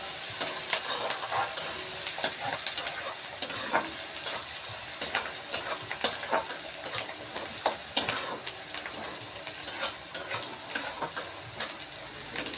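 Chopped onions sauté in a pan for kande pohe, with a bright continuous sizzle and rhythmic spatula stirring strokes repeating roughly every half second, close and unaccompanied by voices.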